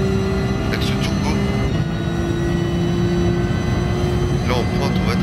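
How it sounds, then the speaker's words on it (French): Turbocharged car engine in the racing game Gran Turismo Sport, a steady loud drone with sustained tonal whine running throughout, a shift in pitch partway, continuous and close with no pauses. "je vous ai laissé un petit peu de bruit de moteur parce que c'est vrai il est bien ce bruit, j'aime bien."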